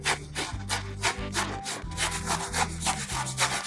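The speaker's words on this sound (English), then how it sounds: "Now it's time to grate the coconut." Fresh coconut grated by hand makes a steady run of rhythmic rasping strokes, each a short, close scrape repeating about twice a second over low background music.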